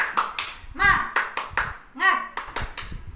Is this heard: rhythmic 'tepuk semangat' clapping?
yes